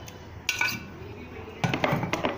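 A spoon clinks and scrapes against a bowl while mint chutney is stirred into yogurt, in quiet bursts of metallic taps separated by brief pauses.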